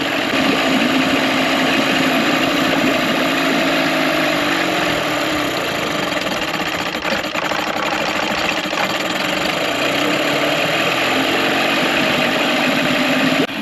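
A Mercury 9.9 outboard motor idles steadily and loudly after a hard start, its continuous mechanical chugging and faint knocking rattle running unchanged for the whole stretch, with no voices.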